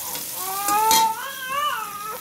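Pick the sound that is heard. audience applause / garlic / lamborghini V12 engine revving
garlic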